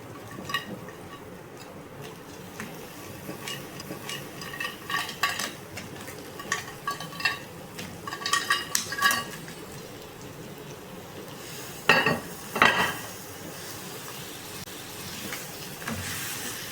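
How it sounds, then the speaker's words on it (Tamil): Crab pieces are dropped into a pan of masala and stirred, a soft steady sizzle broken by clattering spoon-on-pan scrapes and thuds that grow busier midway, close and without talk. "இப்போ நான் நண்டு போடுறேன்."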